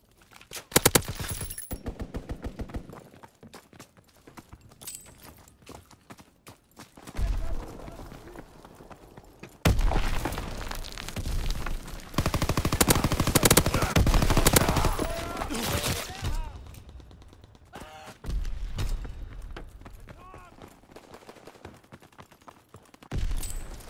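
Bursts of machine-gun strafing from a fighter plane in Call of Duty: WWII on the London Docks map, arriving in loud rapid volleys separated by quieter gaps, with a voice talking at times.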